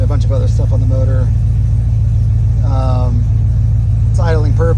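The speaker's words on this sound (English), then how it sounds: "It's idling perfect. 103 millimeter throttle body, idling perfect." A supercharged 2015 GMC Sierra with a 103 mm throttle body idles with a steady, loud, even rumble throughout, while someone talks over it.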